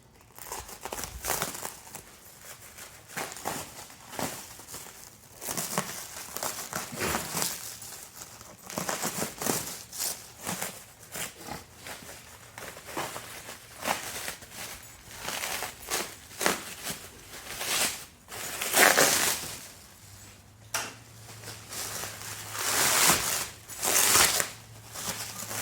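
Thick saran wrap packaging around a BigDogs unboxing gets cut through up close, producing irregular bursts of crinkling plastic and snipping that keep going, with quieter gaps between them.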